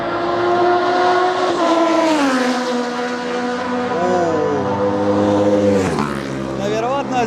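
Racing motorcycles at the Isle of Man TT roaring at high speed, a loud sustained high-revving engine whine with rising and falling pitch as bikes pass close, with a voice talking over it.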